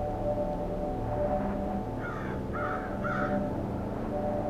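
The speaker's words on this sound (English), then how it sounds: "those crows in the game" Three harsh crow caws in quick succession over a steady low background hum, from the video game Antichamber.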